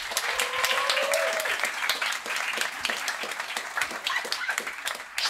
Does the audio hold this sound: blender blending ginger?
no